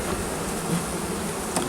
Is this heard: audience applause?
no